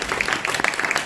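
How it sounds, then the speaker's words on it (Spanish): Brief burst of audience applause for a speaker closing a political talk on dollarization: steady, close crowd clapping throughout the short moment. "Bueno, un aplauso grande para José."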